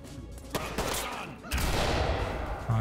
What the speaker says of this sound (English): I want to flashbang this guy.